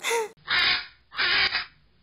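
Pet parrot calling with three loud, harsh squawks, the first short and the next two longer and drawn out, separated by brief pauses.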